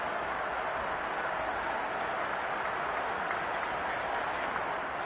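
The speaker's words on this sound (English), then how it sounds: "How about some applause for the defense there?" Applause from the stadium crowd in a Madden football video game keeps up as a steady, broad roar of clapping and crowd noise under light commentary talk.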